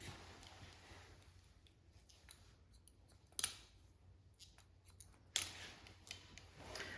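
Scissors snipping hair behind the ear during a pixie haircut, quiet close crisp cuts in irregular clusters with a couple of sharper snips, no talking.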